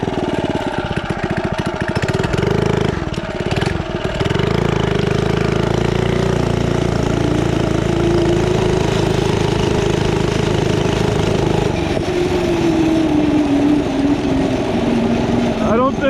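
A 79cc minibike engine with a torque converter fitted with a pink spring runs loud and steady close by, rising in revs and whining toward the end, with someone speaking over it.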